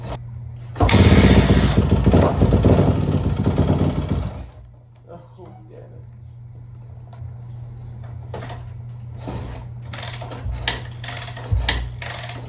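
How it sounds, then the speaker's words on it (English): Dirt bike with no choke, bought secondhand, revs loud and close for about four seconds, then drops to a lower steady idle under scattered clanks and handling noises. "Time to get this bike going."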